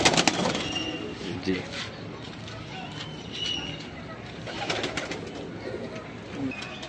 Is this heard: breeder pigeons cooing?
yes